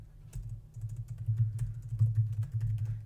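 Quick clicking keystrokes on a computer keyboard, a short run of close, light taps in an uneven rhythm, heard alone without talk.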